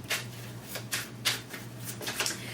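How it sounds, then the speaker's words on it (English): Tarot cards shuffled by hand in a quiet room, several short papery riffling bursts in an uneven rhythm, close and soft with a steady low hum beneath. "I'm going to shuffle."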